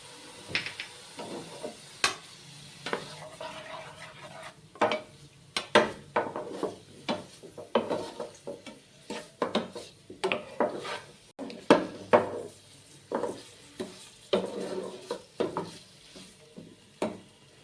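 Paneer frying with Kashmiri chilli and salt while being stirred in a pan: repeated irregular scrapes and knocks of a spatula against the pan over a faint background sizzle, continuing steadily with no one speaking.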